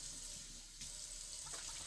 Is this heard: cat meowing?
no